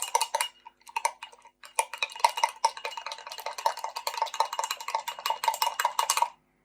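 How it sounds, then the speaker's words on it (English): A spoon stirs and mixes banana pizza batter in a bowl, producing steady rhythmic scraping and light clinking against the sides, close and clear with no talk, stopping abruptly at the end. "mix it again"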